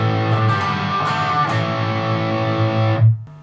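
A Les Paul Jr electric guitar chord rings out through a Boss Overdrive pedal and Friedman IRX amp with a gritty overdriven tone, sustained and loud, then is cut off abruptly near the end.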